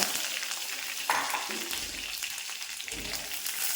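Mustard seeds, cumin, chili and curry leaves sizzle in hot oil, a steady close crackling spatter with a brief stirring clatter partway through.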